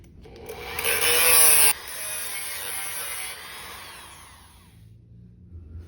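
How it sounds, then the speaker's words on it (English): A Dremel rotary tool runs at high speed in a home workshop, whining loudly up close for a few seconds before its pitch falls away as it spins down to silence. "that solution is the venerable Dremel"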